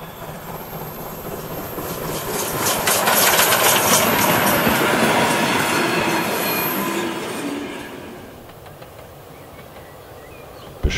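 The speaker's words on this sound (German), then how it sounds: "Zuglok 91134 aus Schwerin ist mit Baujahr 1898 die älteste betriebsfähige Normalspurlok in Deutschland." Standard-gauge steam locomotive 91134 from Schwerin, built 1898, rolls past with a swelling broadband rumble and rail noise that peaks midway and then fades, with no voices.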